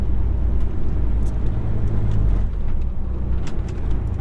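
A UK HGV truck's diesel engine labors up a morning hill at crawling speed while shifting down to sixth gear, a loud, steady low rumble filling the cab throughout with a slight dip as the gear changes.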